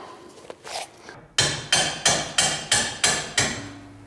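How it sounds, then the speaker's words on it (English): Seven loud, evenly spaced metal hammer blows drive bolts out of a car's front suspension strut on a Mitsubishi Lancer CE, each strike sharp with a brief ringing decay, after some quieter handling noises. "Smack these bolts through that are supporting the strut, and then that'll come out."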